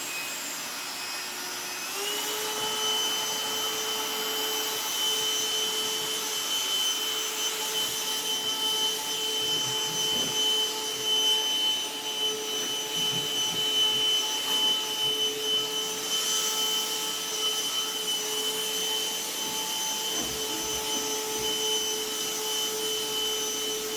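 A Black+Decker cordless Dustbuster vacuum with cyclonic action cleans a couch, its motor a steady high whirring drone heard close up and continuously for over twenty seconds, with no speech.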